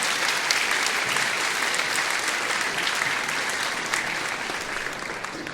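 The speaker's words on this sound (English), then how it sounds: "Give them a nice round of applause." Steady, dense applause from a concert audience at a community band performance, honoring the St. Norbert staff, sustained and fairly even throughout with no break.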